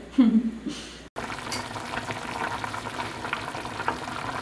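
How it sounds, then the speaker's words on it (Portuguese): A pot of pumpkin for soup bubbling and simmering steadily on the stove, with a short clatter at the start before the continuous boiling takes over. "Agora ela tá fervendo, tá quase pronto."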